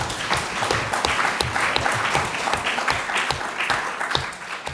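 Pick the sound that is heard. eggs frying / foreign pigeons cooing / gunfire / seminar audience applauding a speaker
seminar audience applauding a speaker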